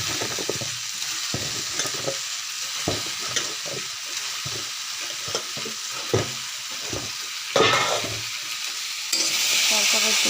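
Ridge gourd tossed into a pan of nearly boiled potatoes to fry, producing a steady sizzle broken by repeated scraping and stirring knocks, then a sharp surge of hiss as fresh vegetables hit the hot oil.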